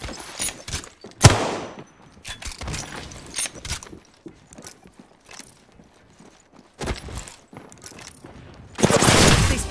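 Video game gunfire cracks in scattered single shots and short volleys, loud and close, with a dense sustained burst of firing at the end and no speech.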